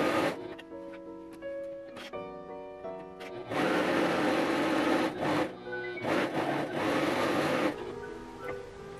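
A Pfaff Coverlock 4.0 sewing machine stitches a sleeve, its motor whirring in several bursts of varied length separated by short pauses, close and moderately loud.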